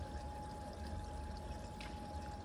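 Water running steadily into a large water tank on a narrowboat, a faint continuous pouring trickle with a quiet even hum underneath, heard alone.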